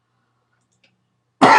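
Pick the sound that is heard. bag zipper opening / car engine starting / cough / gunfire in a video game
cough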